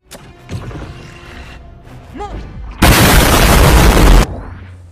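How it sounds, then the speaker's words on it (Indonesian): A big explosion from a missile fired in a Megalodon movie: a sudden loud, dense blast of roaring noise lasting over a second, following quieter rumbling and whooshing effects. "membuat sebuah ledakan besar"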